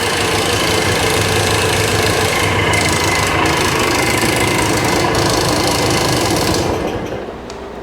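Engine of a 1965 Montgomery Wards Benelli scrambler motorcycle running steadily with a rattle, a loud, close, busy clatter that drops off near the end.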